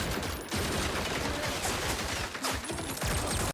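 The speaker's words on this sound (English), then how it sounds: "Gunfire erupts, glass shatters, and the researchers dive for cover," Rapid bursts of gunfire crackle continuously, dense overlapping shots close and loud for a few seconds before cutting off abruptly.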